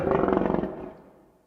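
A lion roars once, loud and close, a pulsing throaty growl that swells and then fades away over about a second.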